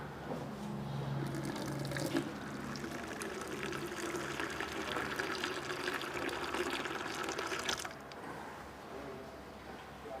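Water pouring into a lambic mash as a steady splashing, gurgling stream that runs for several seconds and then drops to a quieter trickle.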